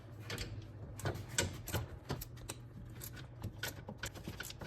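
A wrench working on engine bolts of a Porsche during engine removal, with a rapid run of close metallic ratchet clicks and taps continuing for several seconds, fairly quiet and with no talk.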